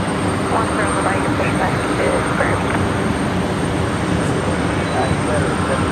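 A Velocity aircraft's engines rumble in a steady, broad roar as it departs on runway 01 right at Brisbane Airport at night, with voices talking over the noise.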